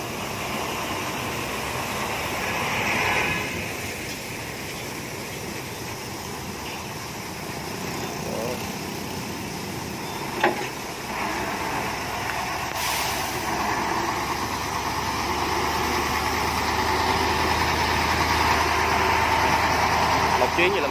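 A barge engine drones steadily while the vessel carries more than 150 tons of stone off Hon Dat, Kien Giang, a continuous low rumble under someone talking throughout.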